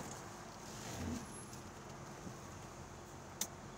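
A 1996 Chevy Impala SS, started cold, idles with a low, steady rumble, faint and even, with a slight swell near the start and a small click later.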